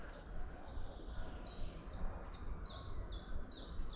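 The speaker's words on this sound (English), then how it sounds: "Yeah, so that's the chiffchaff" A common chiffchaff sings on a spring walk, repeating short, sharp two-note chirps in an even rhythm over a soft background murmur of outdoor noise.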